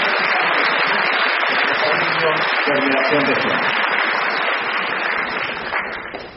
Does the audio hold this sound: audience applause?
yes